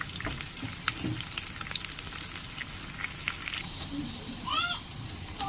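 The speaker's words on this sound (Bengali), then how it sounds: "একদম হালকা লাল লাল করে ভেজে নেব।" Paneer cubes frying in a pan, a steady soft sizzle and crackle throughout with occasional light clinks, fairly close and moderate in level.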